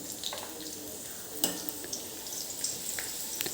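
Chopped garlic and cumin sauté in a pan for spinach with garlic, giving a steady, soft sizzle with a few faint stirring scrapes and clinks throughout.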